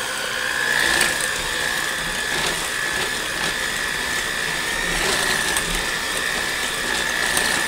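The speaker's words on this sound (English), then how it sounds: "So we're going to go ahead and just mix this up." An electric mixer whirs steadily, blending zucchini bread batter with eggs and sugar, a close continuous mechanical hum with a high whine and faint rattling throughout, no voices.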